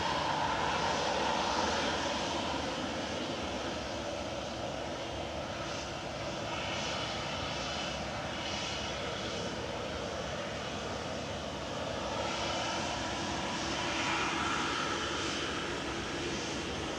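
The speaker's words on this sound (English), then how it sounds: "Lining up for departure now is Ryanair 641 to Valencia." A Ryanair airliner departing Manchester Airport, its engines a steady, loud roar that holds throughout with slight swells, heard from a distance outdoors with no talking.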